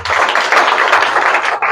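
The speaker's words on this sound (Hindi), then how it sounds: "ताली बजा दे एक बार।" Congregation at a church service breaking into a short burst of hand clapping, many hands together in a dense, close wash of claps lasting under two seconds.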